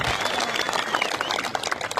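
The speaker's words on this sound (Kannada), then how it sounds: "ಜೋರಾದ ಚಪ್ಪಾಳೆ ಮೂಲಕ ಕೂಡ ಅಭಿನಂದನೆ" A crowd at a farmers' protest claps loudly and continuously, a dense wash of many hands from nearby, with faint voices mixed in.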